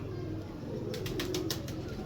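A pigeon flaps its wings in a quick run of soft beats over a low background hum, fairly close but not loud.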